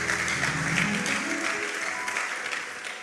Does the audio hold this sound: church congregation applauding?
yes